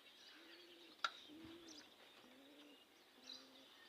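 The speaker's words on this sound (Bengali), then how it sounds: "আর আমার কবুতরগুলো এই যে" Pigeons in a village loft coo softly in a series of low, repeated calls, with a brief sharp click near the start and a quiet, foggy morning background.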